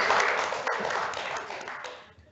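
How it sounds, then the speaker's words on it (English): Applause from members at a council meeting for the CEO, a brief dense burst of clapping that fades out over about two seconds, fairly distant in a meeting room. "We should give the CEO a round of applause"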